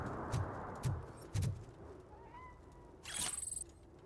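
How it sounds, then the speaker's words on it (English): A cat makes a short, faint meow-like call partway through, quiet against low background thumps and a brief bright electronic tone near the end; no talking. "I heard a cat."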